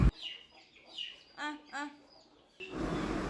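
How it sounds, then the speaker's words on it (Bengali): Chickens clucking and squawking as they scurry around a home yard in short bursts, followed by a rising rustle. A person's voice seems to call out to them. "মুরগিগুলো অনেক ছুটোছুটি করছে, তো ওদের ঘরে যাওয়ার জন্য ডাকাটাকি করলাম"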